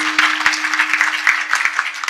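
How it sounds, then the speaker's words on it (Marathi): An audience claps at a Marathi comedy kirtan, a devotional discourse, with sharp claps spaced in a loose rhythm over a steady low hum. "पाठीमागचे टाळ्या वाजू वाटल्या तर वाजवीच जा रे"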